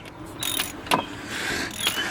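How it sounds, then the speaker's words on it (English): Ratcheting and metallic clicks of a 15mm socket driving a screw back into the alternator bracket on a 2003 Chevy Silverado 1500, close and moderately loud, with a few sharper clicks. "Second screw going back in."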